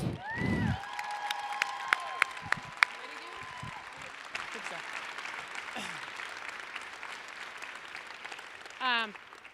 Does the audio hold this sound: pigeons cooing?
no